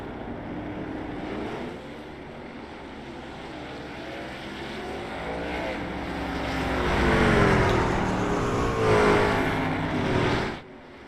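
Stock trucks in a sim racing game rolling off pit road together, a steady low engine drone that swells louder midway as they pass, then cuts off abruptly.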